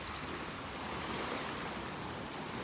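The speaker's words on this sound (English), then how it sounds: "Love listening to the sounds of the waves." Ocean waves on a beach in North Naples, Florida wash in a steady, broad rushing roar, with some wind buffeting mixed in and no voices.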